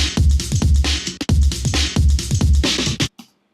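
Homemade recreation of a drum break: a dense, loud looped breakbeat with punchy low kicks and bright crashing snares and cymbals in a steady rhythm, cutting off abruptly near the end.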